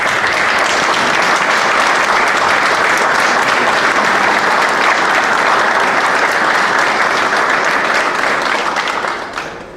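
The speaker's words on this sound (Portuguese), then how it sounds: "queria pedir uma grande salva de palmas para ele" Sustained loud applause from a large crowd at the Sport Clube Praiense 68th anniversary event, continuous clapping for several seconds before beginning to fade at the end.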